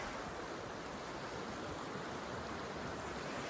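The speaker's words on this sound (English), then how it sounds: "this river is really nice" A river flows near a trailhead on the way to Avalanche Lake, giving a dense, steady rushing roar that holds at an even level from start to finish, with no talking.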